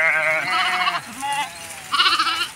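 Sheep grazing in a dried-up maize field bleat close by, two wavering calls separated by a short pause of low rustling.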